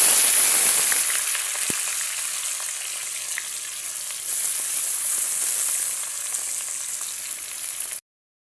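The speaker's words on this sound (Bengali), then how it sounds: "এবার আমি পেঁয়াজ দিয়ে দিব" Onions go into hot oil in a heated wok-style pan, making a loud, bright hiss that drops back to a steady, even sizzle and then cuts off abruptly.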